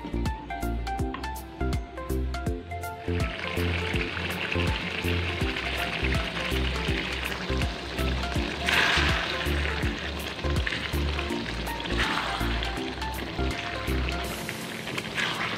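A pot of chicken liver and gizzard rendang with potatoes simmers as its liquid cooks down, giving a continuous dense bubbling sizzle with crackling pops, close and steady, with background music playing throughout.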